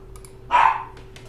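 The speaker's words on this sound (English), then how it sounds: "sometimes they'll be totally quiet little angels, and other times they're just like, they're just gonna be barking at everything" A single short dog bark, fairly close, over a quiet room hum with faint keyboard tapping nearby.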